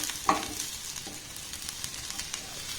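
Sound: vegetables being pushed aside in a frying pan

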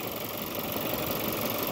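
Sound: Seat Leon 1.4 TSI four-cylinder engine running

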